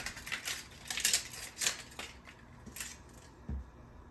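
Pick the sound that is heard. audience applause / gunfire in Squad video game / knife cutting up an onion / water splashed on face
knife cutting up an onion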